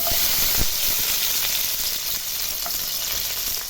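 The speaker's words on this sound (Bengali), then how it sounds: "এই তেলের মধ্যে আমি দিয়ে দিচ্ছি ভিজিয়ে রাখা কাজু আর চারমগজ" Soaked cashews and melon seeds fry in hot mustard oil in a kadai, giving a loud, steady, close sizzle with a few soft stirring clicks and no talk.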